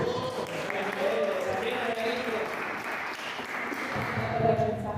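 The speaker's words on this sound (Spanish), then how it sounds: "Un aplauso para él" A church congregation claps in a dense, continuous patter during a Bible study, with voices and cheering mixed through the applause.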